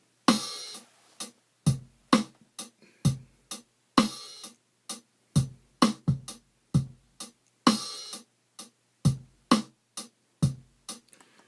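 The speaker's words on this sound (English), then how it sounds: "Triggered the drum track first, programmed the drum beat first, which sounds like this." Simple programmed drum beat at 65 BPM from a Roland SP-606 sampler, with kick, snare and open and closed hi-hats in a slow, steady repeating pattern of crisp hits, played alone.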